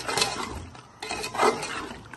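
Spoon scraping and stirring onion masala into chicken in a metal pot, a few short rubbing scrapes and light clinks close by with no talking.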